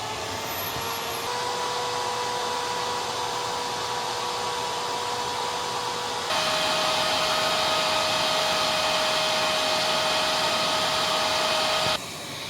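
A Nilfisk HDS1005 machine with a damaged body drones steadily on its low speed setting, a loud continuous whine that shifts pitch partway through and keeps running with no talk.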